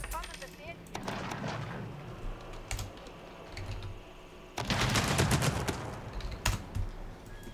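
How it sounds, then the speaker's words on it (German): Automatic gunfire in an Age of Empires II match plays as a low, distant rattle of rapid shots in two bursts, with a louder cluster near the middle, under faint background game sounds. "das sind die automatischen Schüsse"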